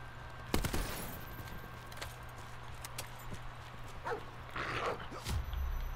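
Attack dogs in the Black Ops 4 video game, heard as scattered sharp barks and growls mixed with gunfire and game noise, moderately loud with no speech.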